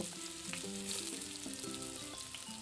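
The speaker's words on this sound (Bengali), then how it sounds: "উচ্ছেটাকে লাল করে ভেজে নেব" Bitter gourd pieces fry in hot oil in a pan, giving a steady close sizzle that runs the whole time, with a faint tonal melody underneath.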